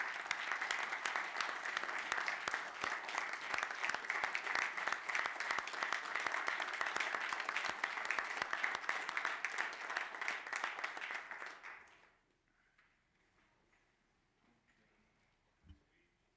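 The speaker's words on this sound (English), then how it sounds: "I think now's the time to clap," Audience applause at a retirement tribute during a public meeting, a sustained round of clapping from a room of people for about twelve seconds before cutting off into near silence.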